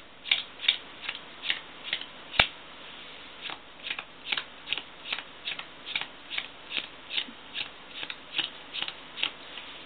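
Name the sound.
playing cards being dealt out into piles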